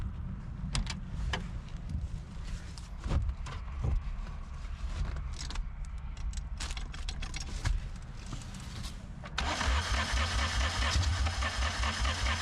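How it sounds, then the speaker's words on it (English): An old car's engine is cranked in an attempt to start it, with clicks and rattling handling noises first, then the starter motor whirring in a loud, rhythmic churn near the end. "Let's try starting the engine."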